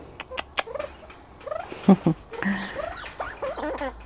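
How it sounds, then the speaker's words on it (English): Chattering domestic birds kept on a UK homestead, close and lively, with a string of short chirps, trills and squawking calls in quick bursts, loud in places, no speech. "They're very talkative birds, very talkative."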